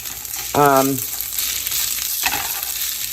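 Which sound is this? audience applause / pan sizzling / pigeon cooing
pan sizzling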